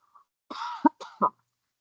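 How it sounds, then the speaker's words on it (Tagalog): A few short, harsh coughs close to the microphone, bunched together in under a second, then quiet. "Pasensya na po sa ubo-ubo."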